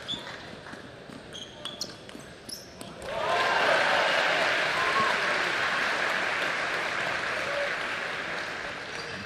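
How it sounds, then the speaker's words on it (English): Crowd at a women's table tennis match in Sao Jose breaks into loud applause and cheering after a few sharp ball bounces, the clapping swelling quickly and holding steady as a dense wash of sound. "Crowd anticipating a great match, getting behind their girl."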